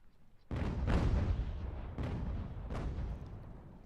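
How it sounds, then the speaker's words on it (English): Artillery fire booms in the Ultimate General: American Revolution battle game, several heavy rumbling blasts rolling one after another with long decaying tails. "Let's get you guys out of that artillery fire."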